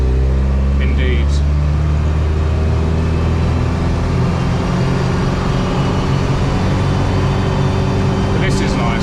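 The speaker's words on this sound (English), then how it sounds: "that petrol engine has plenty of power" A 1984 Land Rover Series 3 FFR petrol engine drones loudly and steadily while driving, a heavy low hum inside the cabin with brief faint squeaks near the start and end.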